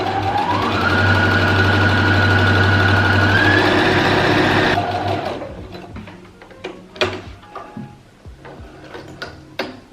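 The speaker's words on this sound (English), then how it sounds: "I will be stitching down these sides right here" A sewing machine runs at full speed for about five seconds, a loud, steady mechanical whir rising in pitch as it stitches the sides of a thrifted messenger bag. Scattered clicks and fabric handling follow once it stops.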